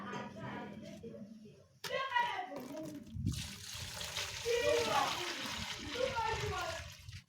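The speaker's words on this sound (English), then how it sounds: "Now there we go pour our soap." Liquid soap pours and splashes steadily into a mold for several seconds, a wet trickling sound under a person talking.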